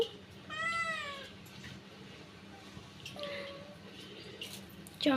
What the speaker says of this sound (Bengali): আমার বেড়াল মশাই মামা শুরু করে দিছে মুরগি আনছি মুরগির গন্ধেও ম্যামা করতেছে ম্যাও